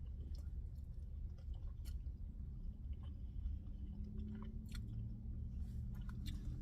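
Chicken and shrimp are chewed close to the mouth, with soft, continuous moist mastication under a steady low background rumble.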